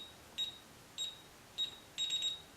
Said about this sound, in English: The panel will beep 3 times to confirm the new code was accepted.